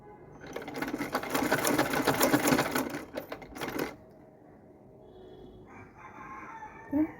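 An older home sewing machine stitches in a steady, fast mechanical whir for about three seconds, then stops, leaving only faint handling noise and a small clack near the end.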